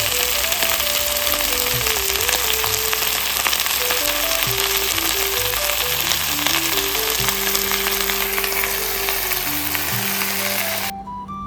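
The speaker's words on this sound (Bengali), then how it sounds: "এখানে করলাটা ভেজে নিচ্ছি" Bitter gourd fries in a pan with a loud, continuous, close sizzle that holds steady throughout, while background music plays along underneath.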